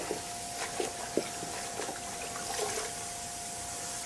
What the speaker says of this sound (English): Getting greens out of the water, straining them.